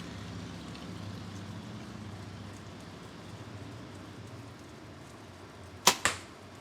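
A Mathews Chill R compound bow without a stabilizer shoots an arrow, a sharp snap followed at once by a second thud near the end of the clip, over low outdoor background noise.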